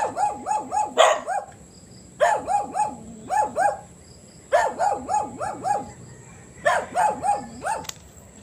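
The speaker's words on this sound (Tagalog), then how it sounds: "Aso." A dog barks repeatedly on a mountain in quick bursts of three to five, with short pauses between groups, over a steady insect-like hum.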